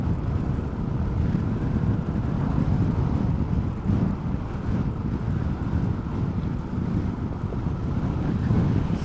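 Riding a Suzuki Burgman 400 motorcycle, with a steady, loud rush of wind buffeting the microphone and a low engine drone underneath, continuous and unbroken throughout.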